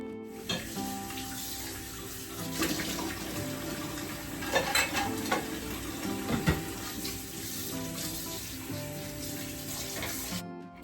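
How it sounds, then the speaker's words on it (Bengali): Hand-washing bowls with hot water at a sink: running tap water splashes steadily throughout, with intermittent clinks and knocks of the bowls being scrubbed and rinsed, close by and without talk. "ভাবলাম এগুলোকে একটু গরম জল দিয়ে মেজে ধুয়ে রেখে যাই"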